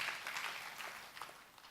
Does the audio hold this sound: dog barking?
no